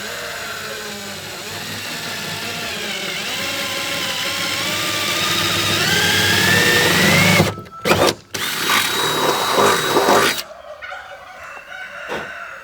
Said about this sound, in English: make sure you have access to it entirely, and that's the main goal first before you start drilling